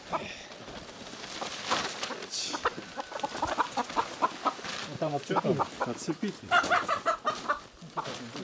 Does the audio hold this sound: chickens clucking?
yes